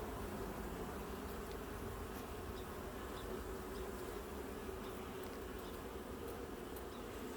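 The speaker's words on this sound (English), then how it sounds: "That's a lot of bees." A dense swarm of honeybees hums steadily around an open hive during an inspection, a continuous close drone with no pauses.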